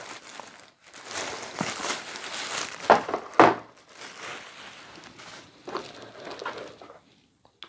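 An HP Wireless Keyboard 300 being pulled from its packaging, with crinkling and rustling of wrapping, a couple of sharper crackles midway, and quieter handling noises tapering off to near silence.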